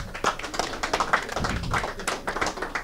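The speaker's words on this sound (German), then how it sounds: "ich glaube, das ist ein Applaus wert" Small audience clapping at an ERC Sonthofen ice hockey press conference after the Bulls' game against TEV Miesbach, with dense, uneven hand claps filling the room at a steady moderate loudness, no one speaking.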